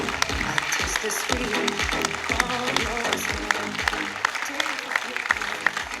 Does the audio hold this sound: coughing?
no